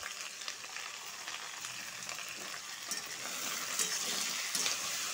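Okra with salt, turmeric and curry leaves fries in a pan, giving a steady, close hiss of sizzling that grows slightly louder toward the end.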